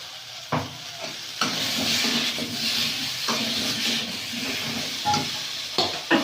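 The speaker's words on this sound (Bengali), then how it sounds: "লঙ্কা, দিয়ে ভালো করে কষিয়ে নেব।" Chilli sautéing in a pan in a village kitchen, a steady sizzling hiss broken by a few sharp scrapes and clatters of a spoon stirring against the metal.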